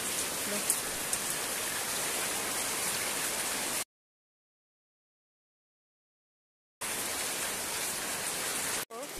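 Heavy rain pours steadily over a village in a dense hiss, cutting out abruptly to silence for a few seconds before resuming just as strongly.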